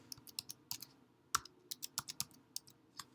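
Hyphens tapped out on a computer keyboard in a quiet room, a quick series of sharp, close keystrokes in an uneven rhythm, one key struck noticeably harder.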